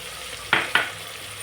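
Chili powder and turmeric sautéing for a goat intestine curry: two quick stirring scrapes through the pan over a soft, steady sizzle, close up with no voices.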